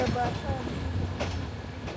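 A passenger train from Cox's Bazar to Dhaka pulls into Kamalapur station in Dhaka, its low carriage rumble rolling steadily beneath a murmur of nearby voices.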